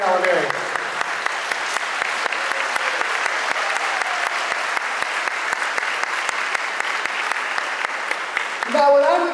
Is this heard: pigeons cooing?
no